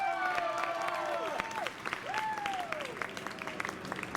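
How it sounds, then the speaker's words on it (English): A student club meeting crowd applauds a speaker's introduction with steady clapping and some cheering, while a couple of voices with rising and falling pitch carry over the claps. "Give her a round of applause."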